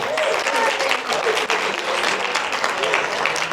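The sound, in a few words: audience applause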